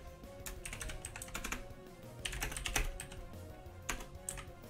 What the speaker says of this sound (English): I'm gonna type to him.